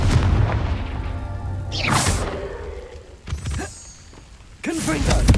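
Confringo fire-blast spell explosions in the Hogwarts Legacy video game, several booming blasts with crackling debris bursting at intervals, loud and close.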